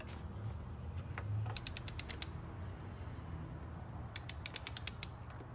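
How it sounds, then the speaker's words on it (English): Spark plug on an Audi A4 B8 being torqued down with a ratchet: two quick runs of sharp, rapid clicks from the pawl, close by, with soft handling noise between them. "just torque it down until it's nice and snug"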